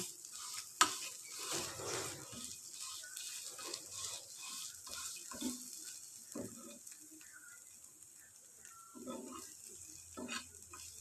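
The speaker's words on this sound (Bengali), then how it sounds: "আর একটু ভাজা ভাজা হয়ে গেলেই ব্যাস নামিয়ে নেবো" Yardlong bean mash frying in oil while being stirred, a steady sizzle broken by scraping stirs and a few spatula knocks against the pan, continuous and close.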